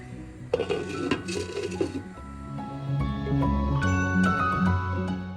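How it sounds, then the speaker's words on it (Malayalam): A pot of Naden-style big eye snapper fish curry with hot water added is stirred and covered again, giving close metallic clinks and a lid clatter, with a tonal musical hum underneath and no talking. "ചൂടുവെള്ളം ചേർത്ത് നമുക്കൊന്ന് ഇളക്കിയ ശേഷം വീണ്ടും അടച്ച് വയ്ക്കാം"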